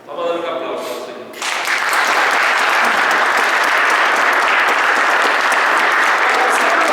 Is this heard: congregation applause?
yes